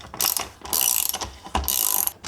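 A spanner ratcheting and tightening bolts on a freestanding 180° awning mounted to a Suzuki Grand Vitara, with close, quiet clicking bursts in several short runs and brief pauses between.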